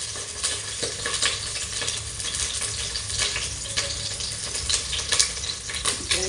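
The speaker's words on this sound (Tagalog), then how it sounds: "Lagyan na tayo ng bawang dito." Garlic frying in oil in a pan for arroz caldo gives a steady close sizzle with faint stirring scrapes throughout, and no one speaks.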